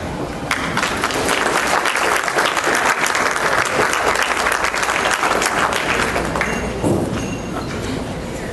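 Audience at a military and youth awards ceremony applauding, dense sustained clapping from many hands, loud and continuous before easing slightly near the end.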